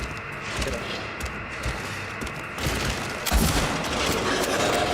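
Pistol shots ring out in a Silent Hill horror game, a few sharp cracks and booms against tense in-game ambience, loud and close.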